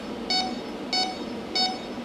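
A refrigerant leak detector for R1234YF car air conditioning emits three evenly spaced electronic beeps, short and clear over a faint background hiss.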